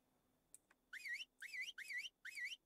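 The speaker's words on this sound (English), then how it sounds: "I'm whistling at him." In Ark, the player character whistles at a Sinomacrops, giving four identical rising-and-falling whistled phrases in a steady rhythm after a couple of faint clicks, clear and alone.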